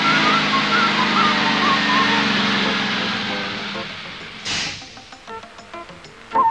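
A lorry engine runs in a movie scene, a loud rumbling drone that fades gradually before an abrupt cut to quieter, broken sounds near the end.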